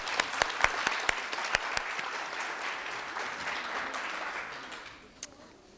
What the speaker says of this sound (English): Let us all give all of our judges another round of applause for their invaluable contributions